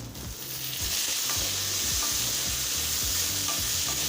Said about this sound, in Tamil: இப்போ சின்ன வெங்காயமும் நல்லா வதங்கிடுச்சுங்க. அடுத்தது ஒரு தக்காளி சேர்த்துக்கலாம்